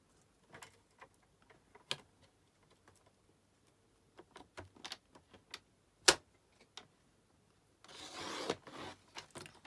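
A paper trimmer working on a card panel, with sparse close clicks and ticks of the blade and carriage, then a brief scraping slide near the end, in a quiet room.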